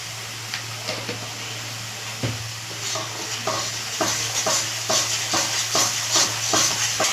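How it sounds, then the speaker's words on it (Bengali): Spice paste with turmeric and salt frying in a pan, a steady close sizzle broken by repeated scraping stirs that grow quicker and more regular toward the end, with no voices. "মশলাটাকে আমি হালকা করে কষিয়ে নিয়েছি।"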